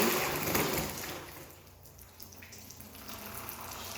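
Water pours onto a pile of loose material to mimic heavy rain, a splashing, hissing pour that is strongest at first and then eases into a steadier, softer flow.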